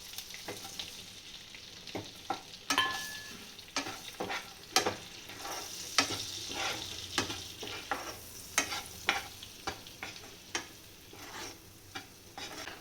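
Homemade spices, garam masala and a little turmeric frying in butter for matar paneer, with a steady soft sizzle broken by repeated scraping stir strokes and clicks of the spoon against the pan, close and moderately loud.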